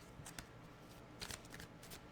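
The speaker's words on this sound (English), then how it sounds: "we're back and shuffling for the energies of this coming week" A deck of cards is shuffled by hand, giving a quiet run of riffling flutters and soft taps over about two seconds, close up and with no talking.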